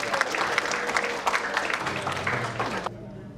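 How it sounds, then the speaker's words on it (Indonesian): Lively applause from an audience at an alumni association national meeting and Halal Bihalal gathering, dense and steady clapping close to the listener that cuts off abruptly just before the end, leaving a quiet room. "kita iringi dengan tepuk tangan yang meriah"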